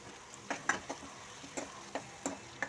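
Onion and tomato fry in oil in a pan with curry leaves, giving a faint, quiet sizzle dotted with small ticking pops and light stirring taps at an irregular pace.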